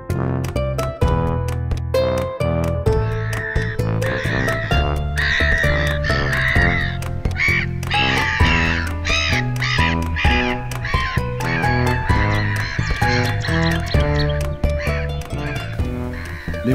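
Black-headed gulls at a coastal polder colony with large chicks, harsh overlapping calls repeating loudly and continuously, close and busy, with no talk over them.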